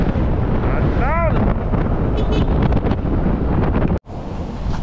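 Strong wind buffets the microphone with a loud, rumbling roar that cuts out for a moment, and a voice murmurs briefly underneath, outdoors in hot weather in Ilocos Norte, Philippines.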